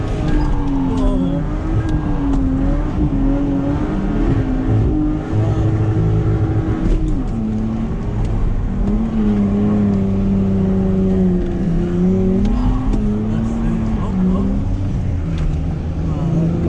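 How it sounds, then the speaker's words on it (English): A 150 bhp Lexus straight-six with a half exhaust holds near its rev limiter while drifting, a loud continuous engine drone with wavering pitch and popping, with people talking over it throughout. "This is on the limiter. It's got a half exhaust. It pops a nice on it, doesn't it? Yeah, straight six."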